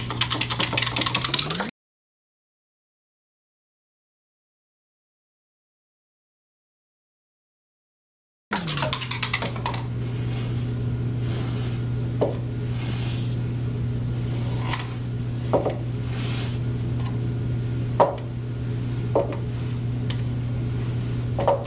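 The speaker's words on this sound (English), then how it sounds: "I'm going to stop the video while I finish whisking these" Colorants for a hurricane swirl cold process soap are whisked in containers, giving a steady whirring hum with scattered light clicks and taps, after a brief stretch of silence.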